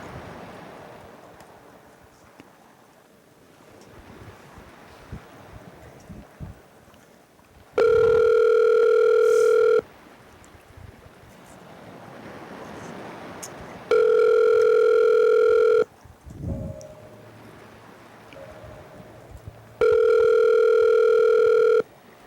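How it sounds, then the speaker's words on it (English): An outgoing phone call rings three times, each long steady tone lasting about two seconds and separated by quiet pauses with faint background noise. "Right, here we go. Calling Dan Nobler"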